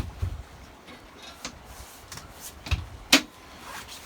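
A boat cockpit seat on a 2018 Sea Ray SLX 350 OB is folded and spun around, making a few faint scattered clunks and light plastic knocks with one sharper click near the end.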